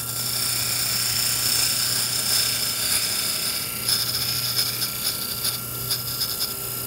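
A wood lathe spinning a wooden spindle while a parting tool cuts a small fillet near one end, giving a steady, loud whirring hum with a scraping cutting hiss throughout, close and without talk.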